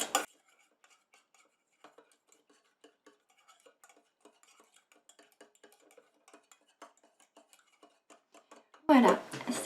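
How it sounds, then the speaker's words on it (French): A spoon stirring a gentle face scrub mixture in a small container, producing faint, light clinks and scrapes in a loose rhythm, quiet and close, with a louder rustle at the very end. "Et je mélange. Je mélange jusqu'à ce que ce soit dissous."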